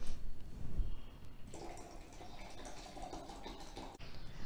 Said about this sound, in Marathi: आता हे मिश्रण एका जारमध्ये ओतून घ्यायचं आहे